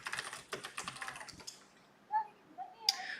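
Quick bursts of keystrokes on a computer keyboard in the first second and a half, followed by a few soft isolated clicks and a brief sharp tap near the end, close and fairly quiet.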